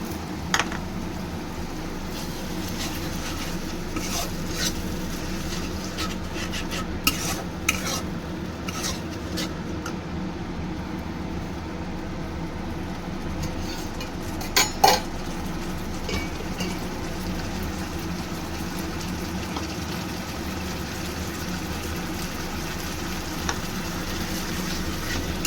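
Potatoes stirred in a pan with tomato paste, green chili and ginger for a vegetarian aloo dum, a steady low sizzle with occasional soft scrapes and clicks, continuous and without talk.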